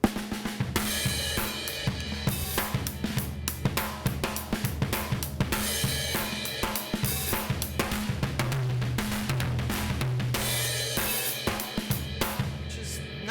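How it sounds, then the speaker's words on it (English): A drum kit played hard, the snare and crash cymbal struck together again and again on the downbeats, loud and close, with a washing cymbal sustain under a steady driving groove. "I was coming down on the snare and the cymbal all the time"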